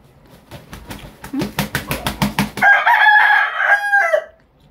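A rapid run of sharp clucks builds to a loud rooster crow, heard close and without talking.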